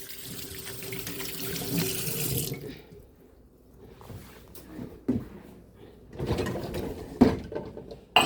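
Kitchen tap water running in bursts while food is washed during home cooking of Nigerian jollof rice and chicken, with clattering handling noises between streams, close and moderately loud.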